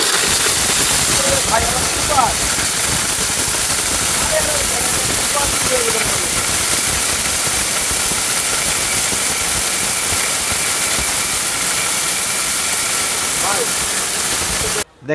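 A powerful steel blender machine grinds turmeric, a loud, dense, unbroken roaring hiss that holds steady for about fifteen seconds before stopping abruptly, with faint voices partly buried underneath.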